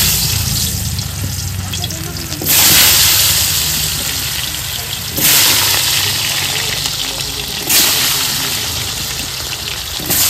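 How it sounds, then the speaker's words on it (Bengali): Potatoes frying in very hot oil in a wok give a loud, continuous hissing sizzle, with three sharper surges as the pieces are stirred or moved. "প্রথমে আমি আলু ভেজে নেবো।"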